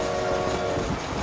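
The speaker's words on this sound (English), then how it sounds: "That's a train." A train in Red Dead Redemption rumbles past with a steady clatter and a sustained horn-like tone, loud and continuous for about a second.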